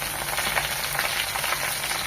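Bantwa greens dropped into a hot frying pan with garlic and onion, giving a steady loud sizzle with bursts of crackle and stirring, no voices.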